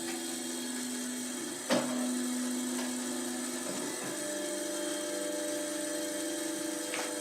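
An Athorbot Buddy Couple dual extrusion 3D printer running stock Marlin firmware auto-homes with a steady motor and fan whine, a sharp clack near the start and shifting tones as the axes move, a fan rattling throughout.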